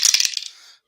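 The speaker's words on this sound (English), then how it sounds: "as we drop the dice" Dice dropped for a tabletop APBA baseball game clatter in a quick burst of bright rattling hits, then settle and fade within a second, close and fairly loud.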